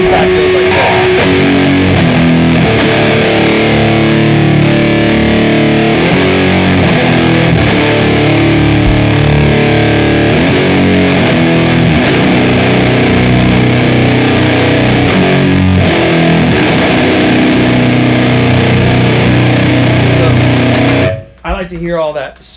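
Heavily distorted electric guitar through a White Witch pedal plays a slow, loud doom riff with open ringing notes, thick and continuous for about twenty seconds before cutting off abruptly.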